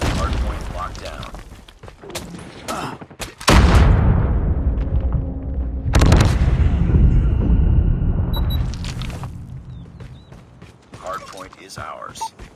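Gunfire and booming explosions in a Call of Duty Mobile ranked multiplayer match come in sharp bursts and heavy blasts with rumbling tails, mixed with mechanical clicks and in-game announcer voice lines.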